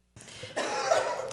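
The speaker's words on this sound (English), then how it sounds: "I'm going to start coughing" A person coughs during a regular council meeting: one harsh, close cough that starts abruptly and builds into a longer rough burst, heard alone.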